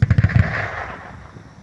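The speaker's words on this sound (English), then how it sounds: "showing a German flak Panzer Gepard shooting down a Russian cruise missile with its 2" German Gepard flak tank's twin 35mm autocannons firing at a cruise missile in Ukraine, a quick rapid burst of booming shots followed by a fading rumbling echo.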